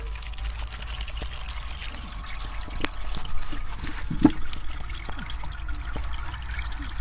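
Melted beeswax runs through a strainer into a container of water, giving a soft, low trickling and pouring sound with a few small clinks and splashes, faint and close, with no talk.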